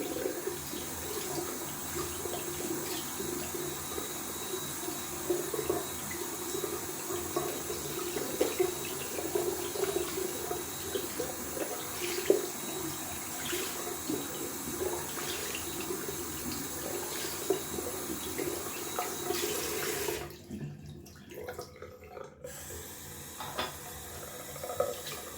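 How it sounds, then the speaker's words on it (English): A shaving brush is rinsed under a running bathroom tap, with water splashing steadily at close range before it is shut off for a couple of seconds and then runs again. "So that's the brush rinsed out"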